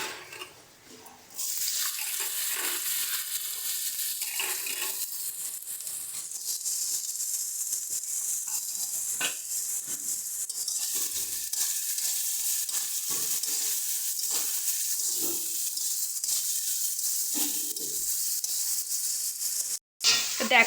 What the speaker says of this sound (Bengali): এবার এর মধ্যে আমরা আলুটা দিয়ে ভেজে নেব।